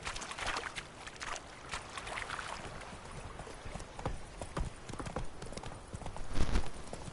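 Horse hooves clip-clop steadily on the ground as a horse is ridden in The Witcher 3 video game, a close, rhythmic trot with soft background ambience.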